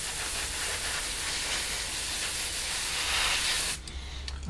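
Airbrush or spray can hissing steadily as flat black paint coats the inside of the bomb bay on a Revell 1/72 Lancaster model kit, a continuous close spray that cuts off near the end.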